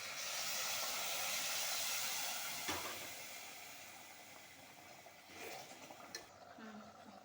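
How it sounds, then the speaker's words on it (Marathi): A pan of water heating on the stove beside a potato curry comes to a boil, giving a steady, close hiss that is louder at first and then eases, with a few faint knocks. "हे पहा याला उकळे आलेले आहे"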